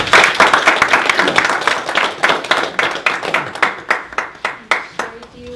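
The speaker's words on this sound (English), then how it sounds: "Let's give a round of applause to our staff here." Applause for the staff of a United Methodist church congregation in Oxford, Massachusetts: many hands clapping steadily and loudly at close range, thinning out to a few scattered claps near the end.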